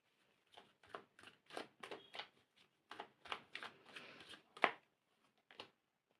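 Tarot cards being shuffled and drawn, a quick series of close, crisp riffling and flicking bursts at an irregular rhythm, quiet and alone with no talking.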